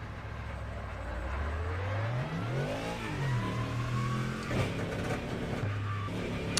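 Ford Mustang GT3 race car on track, its engine revving up through the gears with rising and falling pitch sweeps, a steady, moderately close roar heard alone.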